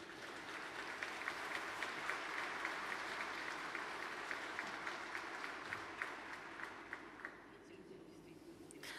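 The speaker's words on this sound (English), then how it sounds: "Nobody asked them to clap and to applaud" An audience at the St. Petersburg International Economic Forum applauds in a sustained, even wave of clapping that fills the hall before thinning out toward the end.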